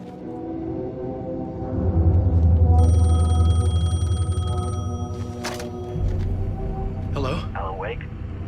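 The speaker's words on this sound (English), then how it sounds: "The payphone was ringing." A payphone rings in the video game Alan Wake 2, a metallic telephone bell that jangles for a few seconds over a low droning ambient rumble, then gives way to softer shifting tones.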